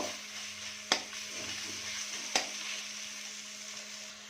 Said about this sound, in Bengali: এটা আমি এই মশলার মধ্যে দিয়ে দিলাম, দিয়ে এটাকে ভালো করে একটু মিক্স করব।